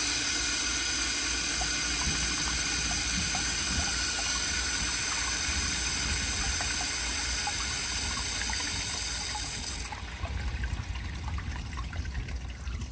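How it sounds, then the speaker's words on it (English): A Kohler Bardon urinal flushes with water pressure set as for an installed unit, giving a continuous rushing, hissing water flow that holds steady before dropping in level near the end. "so here's a flush."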